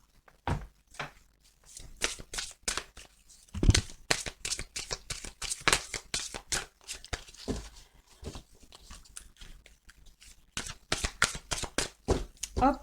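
Oracle cards shuffled by hand in rapid, crisp riffling bursts with sharp snaps and taps as the deck is cut, close and dry, with a quiet voice now and then.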